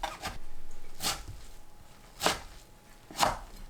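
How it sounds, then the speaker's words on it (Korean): A knife chops through shepherd's purse greens on a cutting board, cutting them into 5 to 6 cm lengths. There are four distinct, crisp cuts spaced about a second apart, close and fairly quiet, with no talk. "5cm에서 6cm 길이로 썰어주세요."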